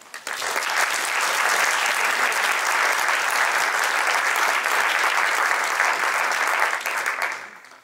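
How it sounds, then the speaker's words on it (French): Warm, sustained audience applause at a conference on low-carbon agriculture, dense clapping that swells quickly, holds steady for several seconds, then fades out. "avant de laisser la parole à Gaël, je vous propose de les applaudir chaleureusement."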